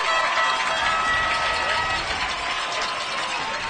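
Dense football crowd noise fills the packed home stands at a Jefferson versus Spring Mills high school EPAC kickoff game, a steady loud roar of cheering and voices sustained throughout without a break.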